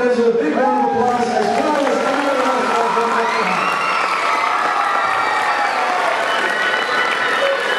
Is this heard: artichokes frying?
no